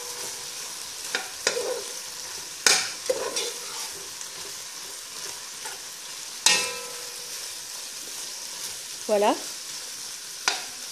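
Mushrooms are stirred into caramel pork frying in a pan, a quiet sizzle broken by several sharp scrapes and clacks of the utensil against the pan, and one short spoken word partway through.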